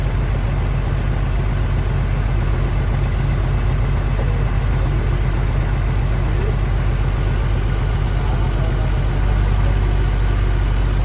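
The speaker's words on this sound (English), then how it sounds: "Now that we've created the cylinder misfire" A car engine idles with a deliberately induced cylinder misfire, giving a steady, loud low rumble with an uneven, lumpy pulse throughout and a slight rise in level near the end, no voices.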